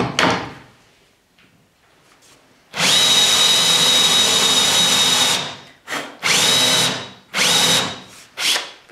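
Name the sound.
power drill countersinking wood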